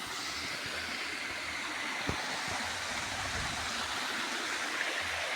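Otso Otso Falls at Mt Balagbag pours as a constant, even rush of falling water, broad and close, with a couple of faint thumps underneath and no voices.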